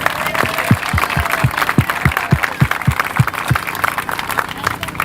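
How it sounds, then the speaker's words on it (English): An outdoor crowd at an elementary school groundbreaking ceremony applauds a school choir, steady clapping with regular low thumps running beneath it and some voices in the mix. "Let's give them another great big round of applause."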